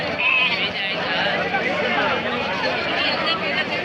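Goats bleat amid the bustle of a weekly livestock market in Karnataka, their cries blending with steady crowd noise and people talking nearby.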